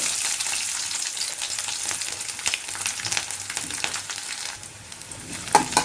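Long thin slices of garlic sauté in oil for a chutney, with a continuous close frying crackle and hiss and occasional stirring scrapes.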